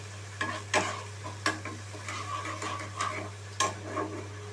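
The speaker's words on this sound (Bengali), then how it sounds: "পেঁয়াজটাকে খুব ভালোভাবে আমি ভেজে নিচ্ছি একে একে" Onion paste frying in oil, a moderate sizzle under repeated stirring scrapes and spoon knocks every second or so, close by, with a steady low hum underneath.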